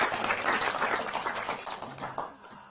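An audience applauds college students at an Israel election broadcast event, a burst of brisk clapping from many hands that is loudest at first and then gradually tapers off.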